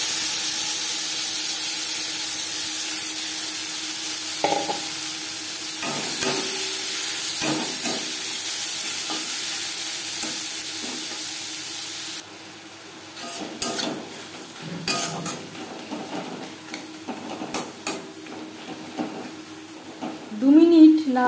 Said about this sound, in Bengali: মাছ ভেজে নেওয়া কড়াইতে আবারও তেল দিয়েছি। দিয়ে দেব পেঁয়াজ টমেটো রসুন।